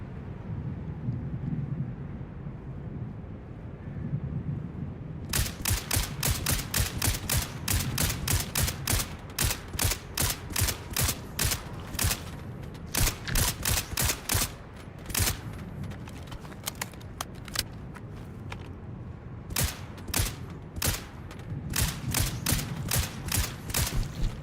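Gunfire rings out in an indie video game, a sharp burst of shots followed by repeated volleys of evenly spaced loud cracks, with brief gaps between the bursts.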